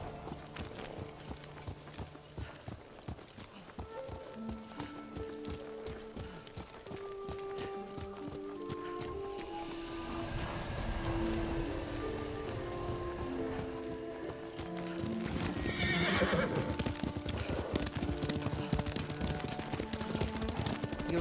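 Horse hoofbeats clip-clop steadily while riding in Ghost of Tsushima, a regular galloping rhythm under game music, with a brief neigh possible, fairly close and moderately loud.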